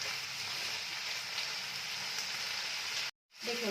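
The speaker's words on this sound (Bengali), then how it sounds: "আমি গ্যাসের ফ্লেমটা এখন মিডিয়াম করে রেখেছি, রেখে এগুলোকে হালকা হালকা করে ভালো করে ভেজে নিচ্ছি" Potatoes, onions and prawns fry in oil over a medium gas flame, giving a steady close sizzle that runs evenly, then cuts out briefly near the end before resuming.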